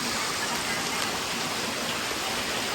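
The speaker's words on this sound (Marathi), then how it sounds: "आणि जाण्याआधीच असं पाऊस पडत आहे" Steady heavy rain hisses near a waterfall, a dense, even wash of sound with no breaks and no talk.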